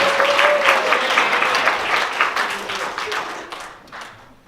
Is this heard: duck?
no